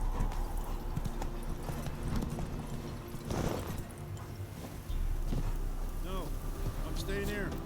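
Roach, the horse in The Witcher 3 on PC, trots with a steady, close clip-clop of hooves, accompanied by wind noise and a few brief higher calls near the end.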